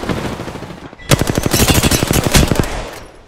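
Rapid automatic gunfire from the video game Apex Legends, a loud dense burst of closely spaced shots that starts abruptly after a quieter second and runs for about two seconds before tapering off, with no talk over it.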